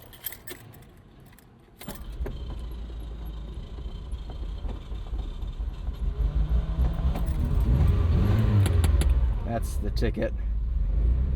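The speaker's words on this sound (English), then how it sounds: "Let's do another warm start on a 1980 Ferrari." After a jingle of keys, a warm 1980 Ferrari 308 GTBi engine with a broken key cranks and catches at about two seconds. It then idles and revs loudly, and someone speaks briefly over it.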